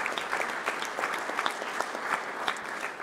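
Polite applause from an evening audience at a French book prize presentation as an author is recognised; a brief, moderate round of many hands with some sharper individual claps standing out, close and steady.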